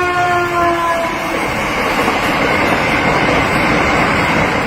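A train crossing the Chenab railway bridge in Jammu and Kashmir gives a loud, steady rumble, with faint tonal notes early on that fade after the first second or so.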